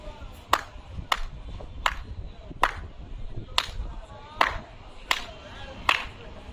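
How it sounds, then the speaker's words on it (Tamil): A single person claps about nine separate times at a slow, steady pace, each sharp slap standing out clearly over a faint room background. "ஜோஷாக்கு ஒரு சின்ன கைத்தட்டல் மட்டும் கொடுத்துடலாம்"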